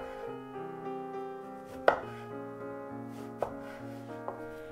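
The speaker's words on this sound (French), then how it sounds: "Je coupe des tronçons dans lesquels j'entaille 5 tranches qui doivent rester reliées d'un côté." A knife slices an eggplant into connected fan-shaped pieces for tempura, with a few sharp chopping knocks on a board heard against steady background music; the cuts come singly and sparsely.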